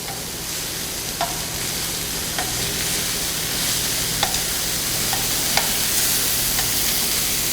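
Beef tips sear loudly in a hot pan, a dense, steady sizzle that fills the whole stretch, with occasional stirring scrapes and pops breaking through.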